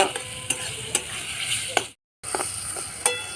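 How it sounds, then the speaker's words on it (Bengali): Onion, tomato, ginger, garlic and chilli sauté in a pan with a steady sizzle, punctuated by repeated sharp scrapes and taps of a spoon stirring against the metal, alone and close. "আমরা পেঁয়াজ টমেটো আদা রসুন আর লঙ্কাটা ভালো করে কষিয়ে নেব"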